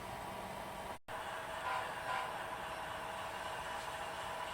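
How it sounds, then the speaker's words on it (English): A model train locomotive rolls steadily around a layout, giving a soft, continuous rumble with a brief dropout near the start, no talking. "now this locomotive is roaming the layout"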